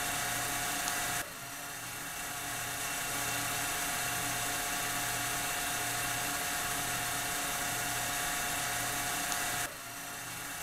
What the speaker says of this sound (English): we're going to adjust the speed of our DC motor to ensure that we're at 1800 RPMs